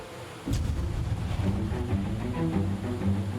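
Floodwater roars down a valley toward a waterfall, a dense continuous rush of torrential water starting abruptly and staying loud, with wind buffeting the microphone throughout.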